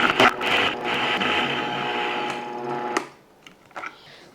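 Vitamix blender cranked up to high speed, a loud whirring motor roar running for about three seconds before cutting off abruptly, followed by a few faint knocks and clatters.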